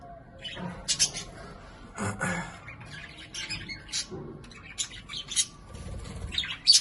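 Pigeons in a breeding cage call in a nearby loft, with scattered chirps, coos and squawks coming in irregular bursts over a steady low background.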